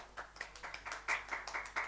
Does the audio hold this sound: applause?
yes